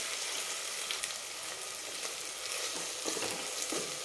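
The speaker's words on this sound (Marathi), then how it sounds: "तो आपण याच्यामध्ये छान परतून घेणार आहे." A 1.5-inch piece of ginger sautés in a hot pan, a continuous dense sizzle with occasional stirring scrapes, steady and close with no talking.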